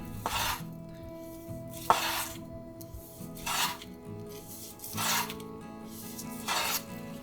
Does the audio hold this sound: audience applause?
no